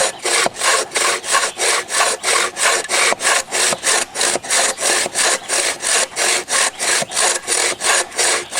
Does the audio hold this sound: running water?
no